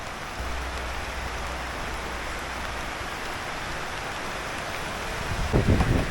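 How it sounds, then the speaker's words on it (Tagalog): Heavy storm rain roars steadily and close, a thick unbroken wash of drops, with a brief swell of louder splashing near the end. "Lakas na ulan, lakas."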